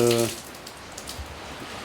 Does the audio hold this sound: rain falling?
yes